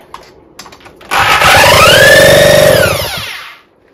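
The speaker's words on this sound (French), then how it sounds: "je vais aller chercher la perceuse démarreuse." A power drill used as a starter whines up sharply and spins a small engine over for about two seconds, loud and close, then winds down.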